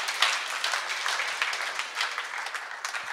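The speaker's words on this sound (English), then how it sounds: "Give him a hand, a round of applause." An audience claps and applauds steadily for a few seconds, a dense even wash of hands with no voices standing out.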